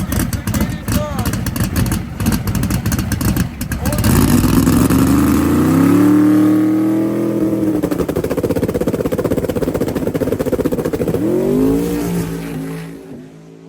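A hot rod on 28.5 slicks drag races down a quarter-mile strip. Its engine roars and revs loudly and rises in pitch as it accelerates, with a voice talking over it.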